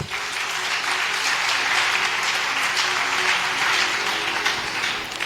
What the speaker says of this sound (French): On acclame les Saintes Écritures.